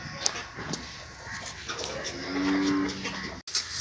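On a farm keeping Sahiwal cows and calves, one drawn-out moo rises midway over a busy background of rustling and shuffling, with a sharp knock near the end.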